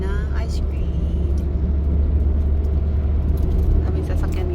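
Heavy traffic on a busy road during a holiday: a constant low rumble of many cars moving past nearby, steady and unbroken throughout.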